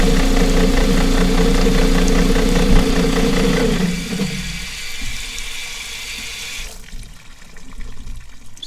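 A homemade chicken plucker's motor hums with a steady idling drone while water sprays through it, then the motor winds down and stops partway through, leaving the hiss of running water, which soon cuts off too.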